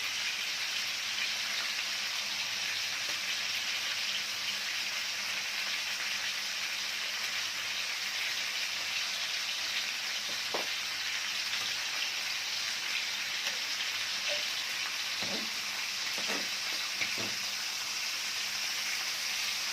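Onions sautéing in a pan for an Egyptian meat and onion tray bake, a steady close hiss and crackle running throughout, with a few sharper pops and stirring scrapes near the end; no one speaks.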